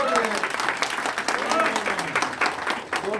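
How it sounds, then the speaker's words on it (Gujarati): A live audience claps together in a dense, lively burst of applause that continues without a break, and voices murmur and call out underneath it. "આમાં તો તાળી બતાવો, અવાજ આવો જોઈએ."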